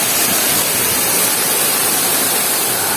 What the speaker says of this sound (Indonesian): Angel Waterfall